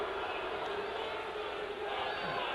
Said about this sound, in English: Crowd's already into it here.